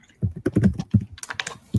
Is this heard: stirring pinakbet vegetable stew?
no